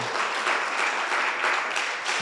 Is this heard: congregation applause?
yes